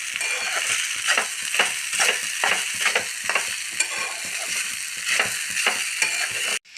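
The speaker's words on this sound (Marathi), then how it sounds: "तेलामध्ये आपले हे शेंगदाणे आणि मिरची छानपैकी परतलेली आहे आता यामध्ये मी आपला हा भिजवलेला साबुदाणा घालत आहे" Soaked sabudana is stirred into hot oil with peanuts and green chillies, giving a crackling sizzle broken by regular scraping strokes of a spoon against the pan, close and alone, ending abruptly.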